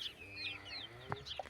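Backyard chickens cluck in a few short, close calls over a quiet yard hum, with a brief sharper squawk near the end.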